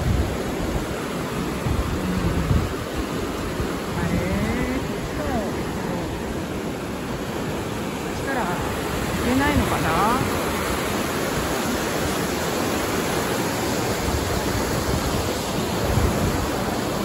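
Water of the Hirose River rushes over a weir in Maebashi, a steady broadband roar heard close with faint voices occasionally over it.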